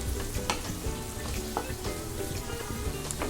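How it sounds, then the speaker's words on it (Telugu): Chopped tomatoes frying in a pan over a high flame, a close, continuous loud sizzle with crackles and small pops throughout, no talking. "సో నేను ఇప్పుడు కట్ చేసి పెట్టుకున్న టమోటాలని ఇందులో వేసేస్తున్నాను."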